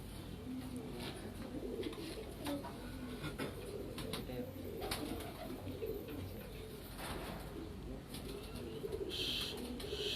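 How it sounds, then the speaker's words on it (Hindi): Large fancy pigeons, Karachi amber-necked and red-laced pearl-eyed birds, coo softly in repeated low throaty phrases, fairly faint, with a brief flutter of activity near the end and no one speaking. "ये हमारे पास इस टाइम माशाल्लाह सबसे बड़े कबूतर हैं ये"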